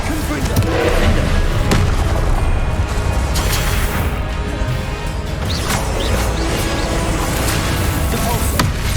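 Confringo spell explosions in Hogwarts Legacy combat: repeated sharp booms and crashes at irregular intervals amid a loud, busy fight, with a voice speaking over the action.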